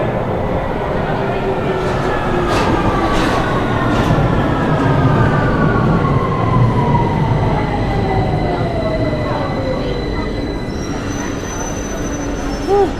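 London Underground train at King's Cross station, loud rumbling carriages with long squealing wheel tones sliding in pitch, a steady close roar throughout, with faint talk underneath.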